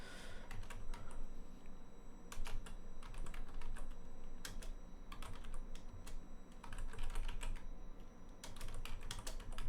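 Steady bursts of key clicks from someone typing internal notes on a computer keyboard, close and continuous with brief pauses between runs.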